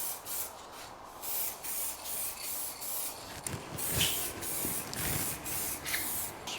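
Spray primer hisses steadily over raw plastic on a crash-damaged BMW 330i, in close repeated bursts with brief gaps, alone without talk.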